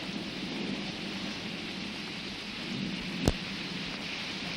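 Heavy rain pours down in a steady, dense hiss, with one sharp crack partway through.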